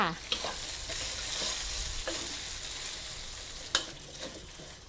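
Starch-coated minced pork stir-fries in a little oil for crispy garlic pork, a continuous crackling sizzle broken by a few sharp spatula scrapes and clinks against the pan.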